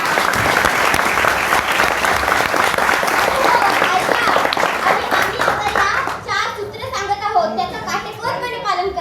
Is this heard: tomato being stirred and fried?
no